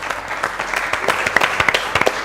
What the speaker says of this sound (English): Let's give a huge round of applause to the contestants.